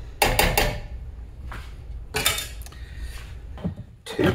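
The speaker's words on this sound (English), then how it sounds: "Add my beef in." Ground beef goes into a pot for Southern-style chili, bringing a few loud clattering metal-and-utensil knocks and scrapes in separate bursts, close up, with no talking.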